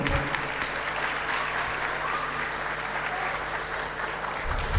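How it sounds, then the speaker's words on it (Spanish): Dense, sustained applause from an audience fills the whole stretch, steady clapping at an even level without pauses. "Un aplauso, por favor."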